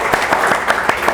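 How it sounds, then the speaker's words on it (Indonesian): A classroom of students gives a short round of applause for their class, a quick burst of scattered hand claps at moderate volume. "tepuk tangan untuk kelas ini"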